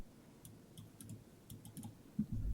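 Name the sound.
pressing the F12 key on a computer keyboard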